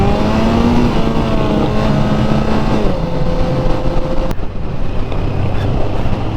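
A motorcycle engine hums loud and close from the rider's seat, its tone climbing briefly then holding steady, buried under heavy wind rush against the microphone, with a sharp knock near the end.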